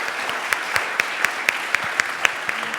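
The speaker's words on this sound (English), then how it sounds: "Can we give a round of applause to our panelists?" An audience at an energy-grid policy conference applauds its panelists, a dense, steady wash of clapping with a few sharper individual claps standing out in a loose rhythm, brief and with no talk over it.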